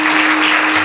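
Listeners at a humorous Marathi kirtan break into applause, a short, loud burst of many hands clapping together, with a steady tonal hum running underneath.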